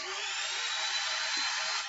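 A saw works on something close by in a steady, continuous hiss-like rasp, unbroken and fairly loud throughout, with no voices.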